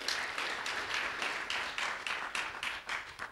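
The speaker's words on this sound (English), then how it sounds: "Let's give yourselves a clap offering." Congregation clapping together during a Sunday church service, a rhythmic burst of hand claps repeating in roughly even pulses, moderately distant and fairly soft.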